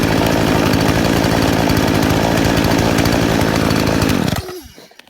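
A gas homeowner chainsaw, a Poulan Pro or Stihl, roars loudly at high revs while cutting wood. The engine stays hard and steady for about four seconds, then drops off sharply and winds down to near silence.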